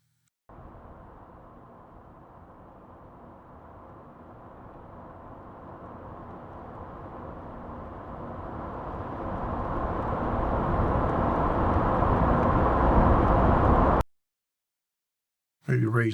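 A car passes by, played back as a sound effect in a film scene mix: a broad engine-and-road rumble that swells steadily closer and louder over about fourteen seconds, cuts off abruptly, then returns briefly.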